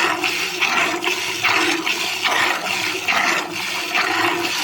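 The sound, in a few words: water poured while washing a buffalo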